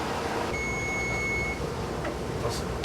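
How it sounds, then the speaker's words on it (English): A kitchen timer beeps a single long steady tone, fairly faint over the background noise, during home canning of pickles in jars after a ten-minute rolling boil. "That's the 10-minute timer's up"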